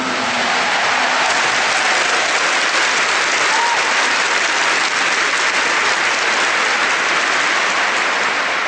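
A large crowd applauds loudly and steadily, a dense, continuous roar of clapping that fills the whole stretch without letting up.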